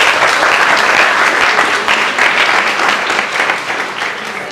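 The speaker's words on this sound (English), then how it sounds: "Give yourself a huge round of applause" Lecture audience giving a big round of applause, dense and loud clapping sustained throughout without a break.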